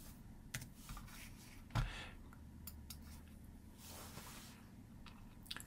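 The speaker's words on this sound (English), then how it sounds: "So I'm going to type in here, write a paragraph about C#.NET MAUI." Someone types a sentence on a computer keyboard, producing quiet scattered key clicks with one louder tap, close by and without talking.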